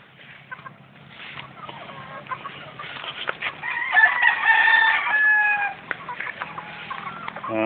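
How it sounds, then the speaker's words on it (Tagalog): Several hens cluck nearby, mixing short clucks with a few drawn-out, rising calls, continuing throughout. "Ito, sir, yung tatlong inahin."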